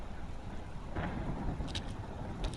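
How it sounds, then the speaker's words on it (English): Heavy rain hisses steadily in an Arknights game scene, with a low rumble of thunder swelling near the middle and faint crackles later, no voices. "It's raining so hard out there!"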